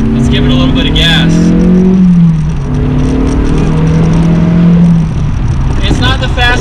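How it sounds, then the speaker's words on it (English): A 15-year-old Honda S2000 convertible accelerates with its engine note climbing and falling through the revs, loud and close, as a person speaks over it. "Let's give it a little bit of gas."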